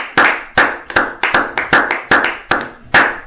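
A church congregation claps together in a steady rhythm, with about nine loud, sharp, even claps spaced a little under half a second apart and ringing slightly in the room.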